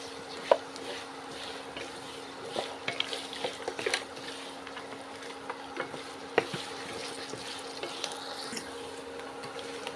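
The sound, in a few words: spices frying in oil for tempering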